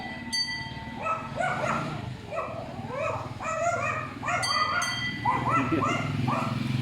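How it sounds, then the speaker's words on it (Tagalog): A dog barks repeatedly in uneven bursts, fairly close, over a steady low rumble of background noise. "ingay ng aso."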